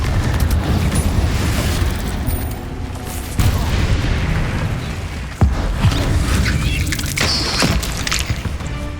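Loud, booming blasts from a Confringo fire spell in the video game Hogwarts Legacy, dense and rumbling, with sharp bursts near 3.5 and 5.5 seconds over continuous crackling battle noise.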